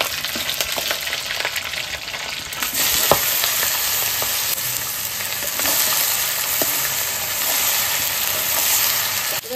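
Dry red chillies and cumin seeds sizzle in fish oil as a tempering. The frying hiss is loud and continuous, crackling steadily with small pops throughout and no talking.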